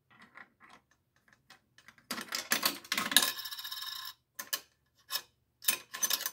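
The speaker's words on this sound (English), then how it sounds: "you can press buttons, put a quarter in it" A quarter drops into a vintage pay phone, clinking and rattling through the coin mechanism amid scattered clicks and mechanical clatter, faint and close with short bursts and pauses.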